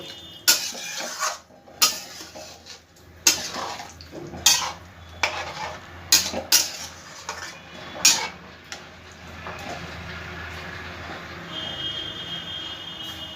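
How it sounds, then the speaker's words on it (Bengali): A spoon stirs potatoes, spices and water in a metal pot for a jackfruit kofta curry, with sharp clanks against the pot in an uneven rhythm, then a quieter steady simmer. "ভালো করে আলুর সাথে মশলার সাথে জলের সাথে মিশিয়ে দেব।"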